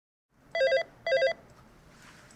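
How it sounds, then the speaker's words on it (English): A telephone rings in two short bursts of trilling bell, each about a quarter second, separated by a brief pause, fairly close, followed by quiet room tone. "Then, Doi received a phone call."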